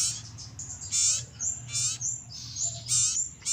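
Young sirtu chicks about two weeks old give a series of high, thin chirping calls in short bursts, close and clear over a low steady background hum.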